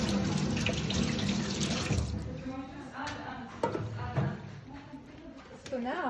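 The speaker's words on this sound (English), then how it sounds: "Rinse it off really well." Running tap water pours over a copper plate being rinsed at a sink, a steady close splashing that shifts and breaks as the plate moves under the stream, with handling clatter.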